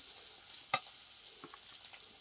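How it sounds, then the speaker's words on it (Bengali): Onion frying in a pan over a raised gas flame, a faint, steady sizzling hiss with one sharp clink of a utensil partway through. "পেঁয়াজটাকে একটু ভেজে নিচ্ছি"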